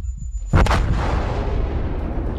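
A single heavy battleship artillery salvo in the naval game World of Warships, a loud close boom that rolls out into a long rumbling decay.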